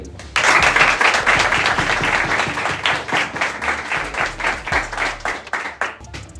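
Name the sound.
applause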